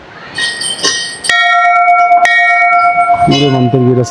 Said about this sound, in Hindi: बस यहाँ पे आप देखेंगे कि घंटियाँ जो हैं पूरे मंदिर के रास्ते में